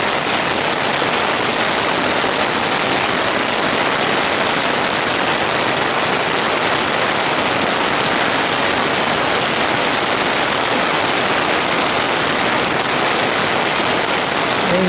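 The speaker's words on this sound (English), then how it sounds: "A little bit of a rain at East Lake." Steady rain drums on the rainfly of a Big Agnes tent pitched at East Lake, a dense unbroken hiss that is loud and close and lasts throughout, with no voices.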